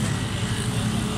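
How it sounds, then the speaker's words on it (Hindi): Suzuki Cultus EFI engine idling with loose tappets, a steady close-up rumble with a continuous mechanical clatter over it, alone and without talk. "इसी वजह से ना इंजन का साउंड ख़राब हुआ"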